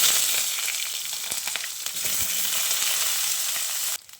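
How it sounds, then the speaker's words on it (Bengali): Eggplant frying in oil left after frying lentil dumplings, giving a loud, continuous hiss and crackle close by that cuts off abruptly near the end. "বড়ি ভেজে তুলে নেওয়ার পর ওই তেলের মধ্যে বেগুনটা দিয়ে ভেজে নেব।"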